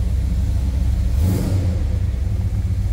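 A 1968 Plymouth GTX hardtop with a 4-barrel V8 warming up on a cold start, a loud, close, steady low rumble with a brief rise in revs midway before settling back to idle.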